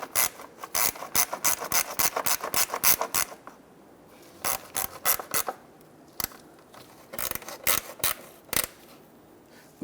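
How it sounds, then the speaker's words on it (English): Ratcheting gear wrench clicking in quick bursts as it tightens radiator bolts on a 1992-1996 Toyota Camry 2.2L I4, with rapid close ratchet runs, short pauses, then scattered single clicks. "when tightening these here, I'm just going to use my gear wrench"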